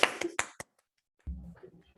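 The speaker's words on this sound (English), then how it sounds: "Unmute myself and just clap properly for that." A few sharp hand claps from a participant on a video call, three or four quick close strikes followed by silence, then a soft low murmur of voice.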